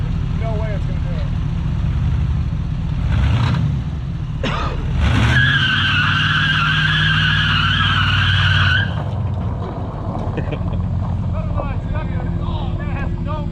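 A 1987 Lincoln Continental Givenchy struggles through a burnout attempt, its engine roaring under a rising tire squeal that holds for several seconds before fading, with people talking nearby.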